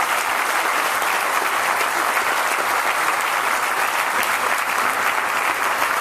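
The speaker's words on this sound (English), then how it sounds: "Give him a round of applause, would you please?" A large crowd at the Farm Science Review claps continuously, a thick and even wash of applause at a steady level throughout.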